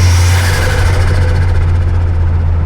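Ford Focus MK2 ST turbo engine running steadily, a loud, constant low-pitched drone with intake rush and no talking.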